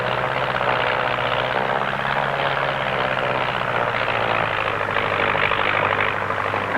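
Propeller engine drone of an Auster light canvas-covered aircraft performing aerobatics at Farnborough in 1950, a loud steady buzzing hum with slight rises and falls in pitch as it maneuvers, no voices present.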